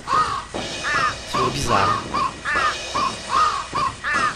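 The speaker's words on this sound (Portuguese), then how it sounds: "O que essas gaivotas estão fazendo aqui?" Seagulls in the video game Thirty Flights of Loving give a run of repeated harsh, cawing calls in an even rhythm, loud and close, with a brief spoken remark partway through.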